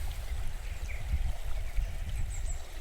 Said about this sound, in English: the river comes past this bridge